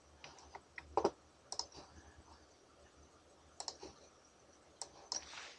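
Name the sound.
computer mouse clicking while editing in Adobe Flash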